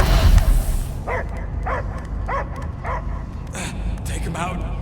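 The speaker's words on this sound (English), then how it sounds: "I hear only barking." Dog barking in Guardians of the Galaxy, a run of five or six evenly spaced, fairly close barks and yips under a low ambient drone, with a voice speaking around them.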